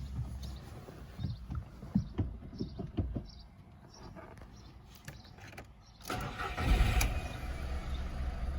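A VW Polo 9n fitted with an aftermarket air intake cranks and fires up after a quiet stretch of faint clicks and shuffling, then settles into a steady, moderately loud running note.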